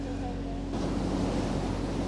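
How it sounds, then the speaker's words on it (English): Steady, heavy wind roar buffeting the microphone on a snowy Swiss Alpine peak near Interlaken, a dense low rumble that thickens partway through and persists without pause. "yes, it is extremely windy out here"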